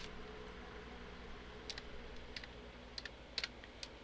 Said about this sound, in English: Let me type here iron.